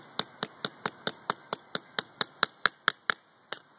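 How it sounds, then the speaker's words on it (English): Big nails are hammered with about fifteen sharp, evenly spaced metallic strikes in a steady rhythm. The blows are close and distinct, with no talking. "take the big nails that you have extra. And then just hammer it."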